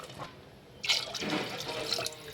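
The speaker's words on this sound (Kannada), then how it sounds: "ಆ ಲೋಟದಲ್ಲಿ 4 ಲೋಟ ನೀರು ಹಾಕ್ಕೊಳ್ಳಿ" Water poured into a pot of masala and rice, starting about halfway with a splashing, gurgling pour that continues steadily to the end, close and moderately loud.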